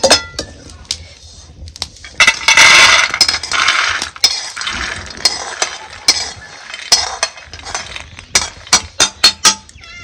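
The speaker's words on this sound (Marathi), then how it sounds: "आता ही शेंगदाणा ह्याच डिसात मी काढून घेते" Dry roasted peanuts rattle and clatter into a metal dish, with scraping and a burst of rapid clinks near the end, close up and with no talking.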